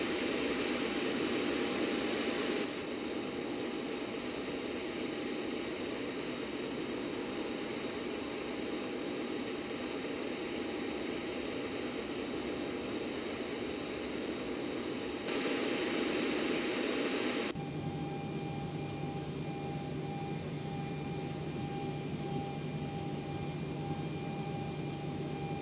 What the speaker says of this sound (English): You can see the APU has started now.